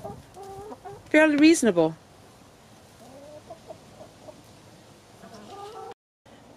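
Backyard chickens fed oatmeal, kitchen scraps and feed, giving a loud burst of clucking and squawking near the start and softer clucks scattered through the rest, with a voice speaking briefly.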